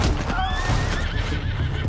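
A horse in Red Dead Redemption 2 whinnies loudly and close, a wavering neigh over a dense background of galloping hooves and noise.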